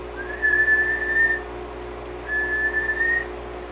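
Two long, steady whistled tones into a radio microphone, each about a second long, with a short pause between them, heard close over the faint electrical hum of a Swan Mark 6b 10-meter linear amplifier with dual 3-500Z tubes.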